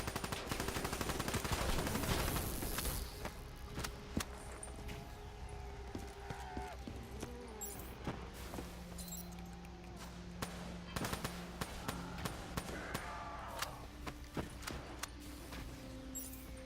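Gunfire from Hendrix in Call of Duty Black Ops 3, heavy rapid bursts at first, then scattered sharp shots and clatter over a low hum, with faint tonal game sounds.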